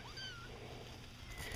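A kitten from a basket of kittens gives one thin, rising meow, followed by a fainter high mew. Both are quiet and close, over low background noise.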